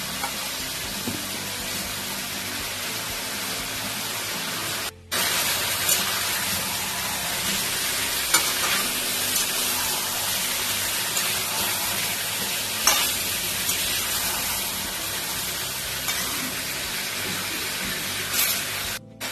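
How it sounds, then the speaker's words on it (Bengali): Cut potatoes dropped into hot oil in a pan for a chicken dish fry with a loud, steady sizzle and spatter that carries on unbroken apart from one brief dip, close up and with no voices. "তিনটে আলু আমি কেটে রেখেছিলাম দিয়ে দিচ্ছি"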